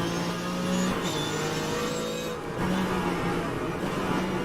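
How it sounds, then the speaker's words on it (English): Race car engine in Assetto Corsa Competizione held at steady high revs, a constant loud drone with a brief dip midway as if shifting, no voices. "when the engine's at the top of its rev range, it doesn't sound like it is"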